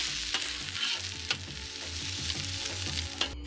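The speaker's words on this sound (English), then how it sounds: "Okay, stir these ingredients together." Onions and peppers sizzle steadily in a pan while being stirred, with repeated scraping knocks of the utensil over a continuous frying hiss, close and moderately quiet.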